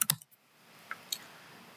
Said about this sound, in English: Click on your start icon and start typing the word Notepad.